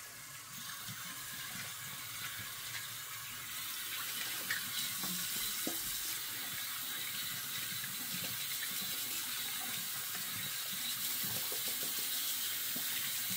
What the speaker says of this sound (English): let's clean out the brush really quick.